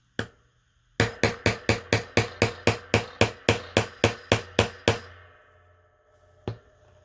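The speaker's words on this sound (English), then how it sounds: "I'm going to hammer now" Rapid, even hammer blows setting an eyelet in a junk journal, about sixteen sharp strikes in a row, then a pause and one final tap.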